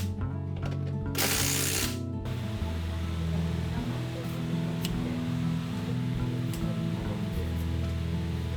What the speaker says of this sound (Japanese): ボルトは必ず締め直しておきます